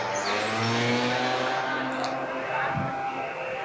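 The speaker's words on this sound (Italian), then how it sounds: "una macchina che sta uscendo dal medico" A car pulls out of a parking space outside a doctor's office, its engine revving steadily at moderate distance through a low, continuous motor hum.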